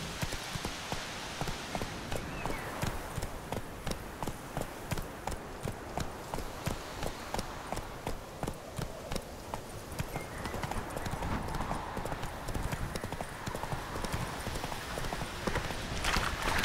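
A horse's hooves clip-clop in a steady, rapid galloping rhythm in the video game The Witcher 3, continuous and fairly close throughout.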